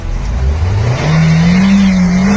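A car stuck in snow revs hard in reverse as its tires spin, the engine pitch climbing and then holding in a loud, close whine.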